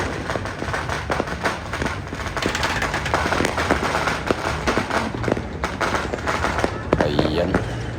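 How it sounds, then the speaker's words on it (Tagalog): New Year fireworks and firecrackers crackle and pop in dense, irregular bursts, some near and some farther off, with people talking over the noise. "marami nang nagpuputukan"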